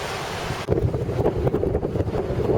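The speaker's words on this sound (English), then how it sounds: "It's very, very blowy outside." A strong gale roars over the open surf of St Ouen's Bay, Jersey, with heavy wind buffeting the microphone and a constant wash of crashing waves beneath; no voices.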